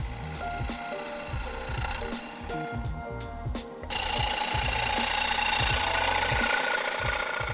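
A wooden bowl spinning on a lathe while a cleaner tool cuts an ogee curve into the rim, giving a rhythmic scraping and knocking over a motor hum, then a brief quieter pause before a louder, continuous cutting hiss.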